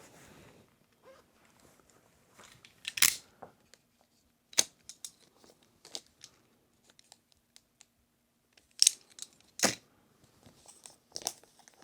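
A taped paper envelope is torn and ripped open at close range, with a few sharp tearing and crinkling bursts separated by quieter rustling and handling noises, no talk.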